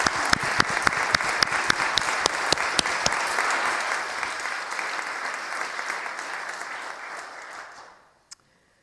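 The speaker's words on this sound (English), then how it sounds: "I know we are in church, but I feel a round of applause coming on." A church congregation at a memorial celebration of life breaks into warm applause, sharp individual claps standing out at first before the clapping thins and fades to silence near the end.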